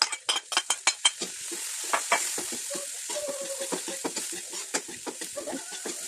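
Garlic and white onion sautéing in a pan, a soft hiss of frying behind a rapid run of spatula scrapes and clinks against the pan, close up and fairly steady.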